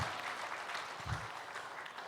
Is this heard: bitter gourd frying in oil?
no